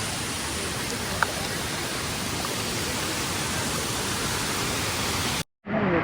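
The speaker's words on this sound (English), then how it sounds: "This is the main waterfall here." Roar of a huge waterfall in Laos, a loud unbroken wash of falling water filling the whole clip, with a brief dropout just before the end.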